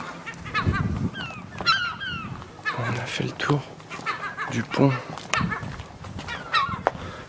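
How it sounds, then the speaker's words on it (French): Seagulls squawk and cry around a ship's deck, repeated harsh calls coming and going, mixed with someone talking quietly and some laughing-like sounds. "les bâtards de mouettes là"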